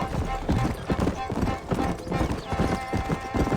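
Horse hooves clip-clopping in the Red Dead Redemption video game, a steady galloping rhythm of close, loud hoof beats under urgent game character voices.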